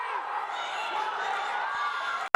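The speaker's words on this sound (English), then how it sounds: "Both sides getting very intense right now, both cheering on their teammates." Spectators at a high school wrestling match between Mepham and Southside cheer on their teammates in a steady, loud crowd roar that holds level, then cuts off briefly before surging again.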